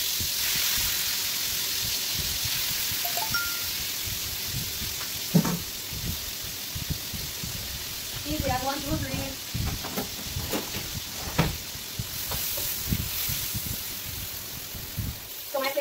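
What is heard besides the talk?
chicken frying in a wok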